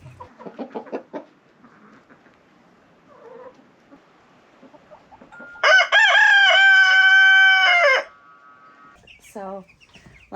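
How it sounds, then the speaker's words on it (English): Young Cornish Cross meat chickens in an indoor brooding room give a loud, sustained crow-like call for about two seconds, with scattered softer clucks and peeps before and after. "A room full of chickens."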